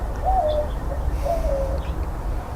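Backyard birds at a seed feeder giving soft cooing calls, two short coos in a row, close, over low steady outdoor rumble.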